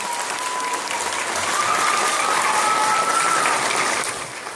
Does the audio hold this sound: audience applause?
yes